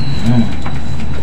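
Racing pigeons about four to five months old coo in a loft, a low soft cooing beneath a dense, steady background of rustling and noise.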